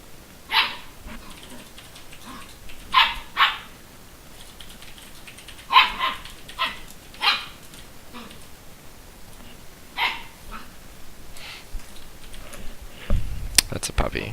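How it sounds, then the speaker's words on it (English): Puppy barking in short sharp bursts, about a dozen separate yips spread irregularly across the span, fairly close and clear against a quiet background, with a faint rustling sound near the end. "That's a puppy."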